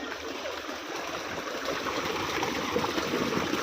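Water gushes steadily from a farm borewell, a continuous close rushing hiss that stays even throughout with no voices.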